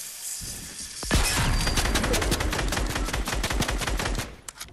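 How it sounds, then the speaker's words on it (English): Rapid bursts of player gunfire in Fortnite, loud and close, firing in dense repeated shots for several seconds after a brief quiet start, with sharp cracks tailing off near the end. "That's me shooting."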